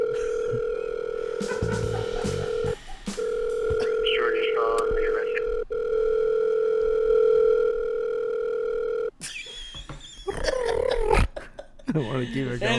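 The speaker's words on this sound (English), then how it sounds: "I'm calling all their landline and their cell phone at once." A telephone dial tone hums steadily while a call rings out to a landline and a cell phone at once. It breaks off briefly, then gives way to voices and noisy chatter near the end.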